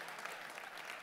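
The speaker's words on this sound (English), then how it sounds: "Give her a round of applause, please." Audience at a live stage show applauds a participant, a brief, soft, distant patter of many hands.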